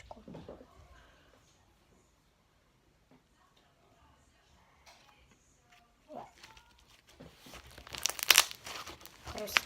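A thick, dense slime being handled, with sharp crunching and clicking bursts that grow louder toward the end after quieter squishing, while a person talks at times.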